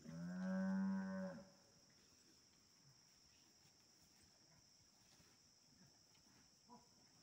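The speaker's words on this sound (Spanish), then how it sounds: "Parece que están contentas las vacas." Cattle on a Veracruz farm being fed corn stubble give one loud, drawn-out moo lasting about a second, then quiet field ambience with faint insect buzzing and a tiny distant sound.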